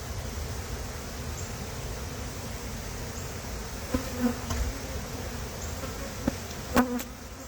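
Honey bees buzzing during a hive inspection make a dense, steady drone close by, with a few louder individual bees passing near and brief soft knocks of hive handling.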